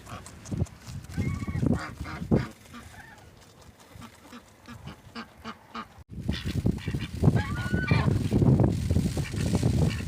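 Geese honk repeatedly in a noisy cluster, close by, at a Ukrainian village farm, with strong wind gusting and ducks and other fowl calling in the background.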